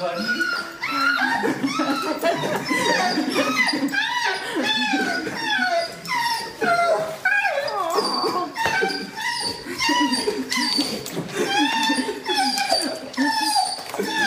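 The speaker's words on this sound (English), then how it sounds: "A dog is completely shocked when his best friend suddenly reappears after being gone for 9 months of military training." A dog greets its owner, back after nine months of military training, with high, excited whimpers, whines and yips that run continuously, mixed with people talking excitedly nearby.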